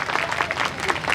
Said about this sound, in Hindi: एक बार जोरदार तालियां उनके सम्मान